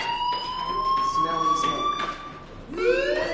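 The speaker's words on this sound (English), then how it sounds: "Hey, do you hear that fire alarm?" A fire alarm rings inside a school in the video game Life is Strange, its steady high electronic tone running continuously at moderate loudness under a game soundtrack, with a person speaking near the end.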